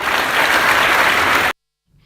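Audience applause at a public event addressed by a deputy education minister: a dense, steady burst of many hands clapping for about a second and a half, then cut off abruptly into silence.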